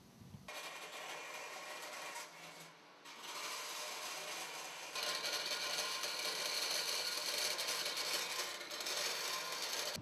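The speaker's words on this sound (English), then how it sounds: "We'll take this over to the bandsaw and we'll start cutting this out." A bandsaw cuts out metal fender pieces for a hockey-puck fender, a steady loud whining rasp running throughout with a brief dip partway before the cut resumes at greater intensity.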